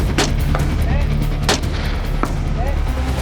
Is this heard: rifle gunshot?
yes